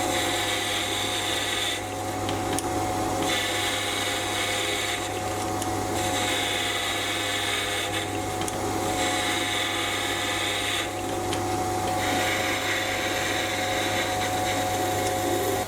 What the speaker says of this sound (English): I'll now turn up a 12mm spigot for the gear to push onto.